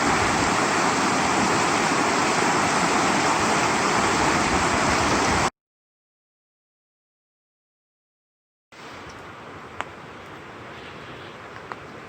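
South Toe River in Pisgah National Forest, North Carolina, rushing beneath a road bridge; a loud, steady broadband roar of flowing water that cuts out completely, then returns quieter with a few faint clicks.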